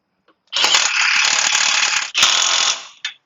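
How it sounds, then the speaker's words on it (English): An impact wrench tightening a tie rod on a 2004 Chevrolet Silverado 2WD during a lift kit install buzzes in a loud, close burst for about two seconds, pauses briefly, runs again, then gives one short final hit. "Put the impact right up on there."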